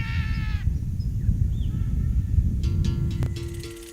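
Harsh, raspy calls of red macaws sound at a distance in the Brazilian sertão over a steady low rumble of wind or background noise, one at the start and more near the end.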